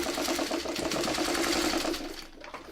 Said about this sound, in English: we just want to stay in that seam allowance to give that stay stitching a place to hang on to